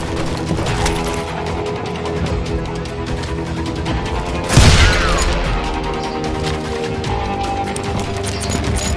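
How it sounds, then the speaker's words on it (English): Rapid gunfire in a street shootout in Call of Juarez Gunslinger, a dense fusillade of shots crackling throughout with one loud heavy blast midway, no talk. "They're shooting in the street!"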